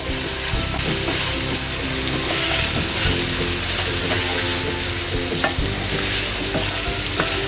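Ginger garlic paste frying in hot oil beside chicken pieces for chicken korma, a dense, loud sizzle with occasional spoon scrapes and clinks against the pan, continuous and close.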